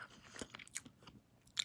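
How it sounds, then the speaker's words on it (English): Someone bites and chews small pieces of crunchy fried chicken close up, with faint, irregular crisp crunches and soft mouth sounds scattered through a quiet moment, no talking. "Ooh, and there's a delicious light crunch."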